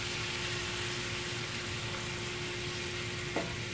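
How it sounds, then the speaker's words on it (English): Cabbage stirred in a hot pan gives a steady, even sizzle with a faint hum underneath and one brief scrape near the end. "Stir it in with your cabbage."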